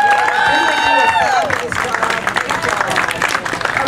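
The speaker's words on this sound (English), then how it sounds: "let's give another round of applause for Jackson," Audience applause and cheering after a band's first gig performance, dense clapping with crowd noise throughout, while a voice speaks over it at the start.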